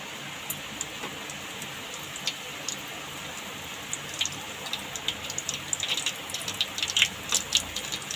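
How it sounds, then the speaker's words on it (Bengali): Papad is pressed with a round ladle while it fries in hot oil, giving a continuous sizzle. Crisp crackles and pops grow denser and louder toward the end. "আর একটা আমি এরকম গোল হাতা নিয়ে নিয়েছি, দিয়ে এরকমভাবে চিপে ভেজে নেব।"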